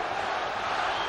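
A brief burst of dense, continuous crowd noise fills a boxing arena during the Tyson–Holyfield bout, many voices yelling and roaring together at steady loudness.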